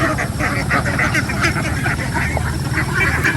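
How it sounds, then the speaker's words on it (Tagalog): Ducks quack together in a busy, steady chorus while feeding on algae, moss and grasses on a farm, the overlapping calls close and continuous over a low background rumble. "Yung itik, ganun din, nakain ng mga algae."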